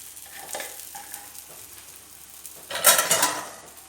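Onion cooking in coconut oil in a pan, a quiet sizzle with light stirring scrapes that swells into a louder burst of frying near the end.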